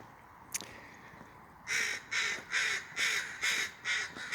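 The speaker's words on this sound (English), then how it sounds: "These birds are making quite a ruckus here." Crows call noisily outdoors: one sharp short call, then a rapid series of six loud, rhythmic caws close by over a faint background.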